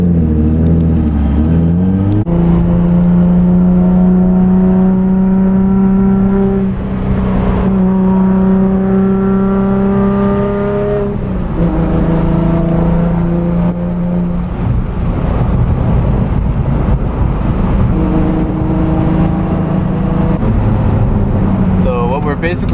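A Nissan Z with an exhaust leak revs its engine up and down in loud, rising and falling harmonic sweeps, raspy and close, with occasional voices talking over it.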